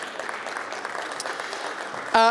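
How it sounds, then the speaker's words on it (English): An audience at an international fisheries and ocean dialogue conference panel applauds steadily for about two seconds, followed by a brief clear electronic tone at the end. "Round of applause."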